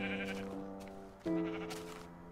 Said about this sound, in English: there's a sheep right here